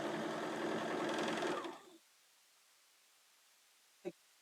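A sewing machine runs at speed, stitching quilt units assembly-line style, in a loud, close, continuous whir that winds down and stops, followed by quiet and a single small click.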